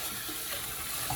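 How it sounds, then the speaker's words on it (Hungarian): Water runs steadily from a pull-out kitchen faucet into a granite sink, a constant broadband hiss and splash close by, with no voices. "Ennek a csapnak több funkciója van, kihúzható és zuhanyzó funkcióval is használható."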